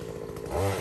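A Takeo 2-stroke 68cc gasoline earth auger drilling a planting hole in soil, its small engine buzzing steadily and then rising into a louder, higher revving whine near the end, close and alone.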